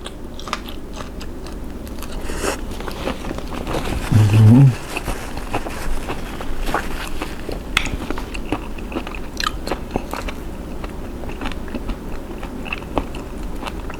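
Someone eats shrimp soaked in fish sauce and topped with fried shallots, with close, wet biting and chewing crunches repeating throughout, plus brief murmured sounds between bites.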